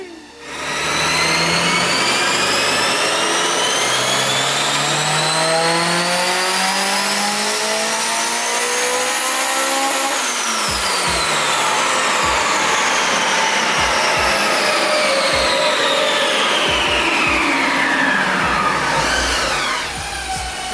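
A supercharged Honda S2000 with a new exhaust revs hard on a dyno, engine pitch climbing steadily in a loud, whining sweep, dropping off sharply, then revving again with brief throttle blips near the end.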